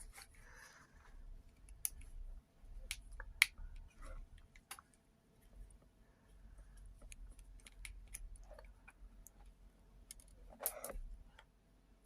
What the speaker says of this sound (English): Now, undoing the 6 screws in the case.